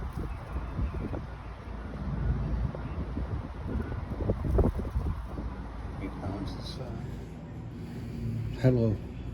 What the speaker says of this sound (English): It's quite windy out here on the balcony.